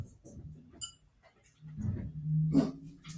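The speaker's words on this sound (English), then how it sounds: "And sometimes life happens and your dogs bark, and it's all good." Dogs bark indoors during a quiet home yoga session, with a few short, muffled barks some way off against near silence.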